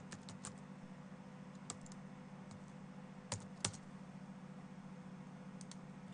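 Computer keyboard keys tapped in a few quick, sparse clicks over a steady low hum, close and fairly quiet with no talking.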